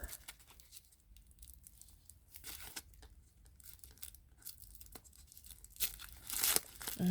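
Paper is unwrapped from a Coach accessory box in quiet, close crinkling and tearing bursts. A louder rustle comes near the end, and no one talks.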